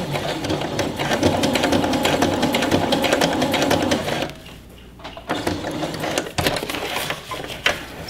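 A sewing machine stitches a fabric blackout cover around its edge in a fast, steady mechanical chatter, close and loud, pausing briefly midway before resuming in shorter runs.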